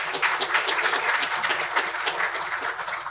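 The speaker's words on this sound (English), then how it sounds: "please, a round of applause for that partnership and for the LAPD" Audience applause for an LAPD community partnership at a public service gathering: steady, dense clapping from a crowd, sustained at an even level throughout with no voices over it.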